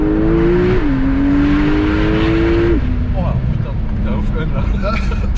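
A 900-horsepower Porsche engine holds a loud, steady droning note that steps up, then drops back to a lower idle-like hum, running under people talking throughout.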